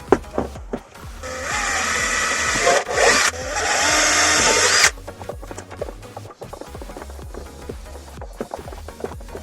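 Power drill bores new holes for rear shelf speakers in a BMW E36 Coupe, a loud whirring burst lasting several seconds with a brief pause, followed by scattered close knocks and handling clatter.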